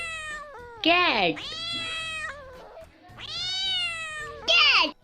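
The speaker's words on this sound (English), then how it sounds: "cat." A domestic cat meows repeatedly, long drawn-out rising and falling yowls with short gaps, loud and close, ending on a sharper cry.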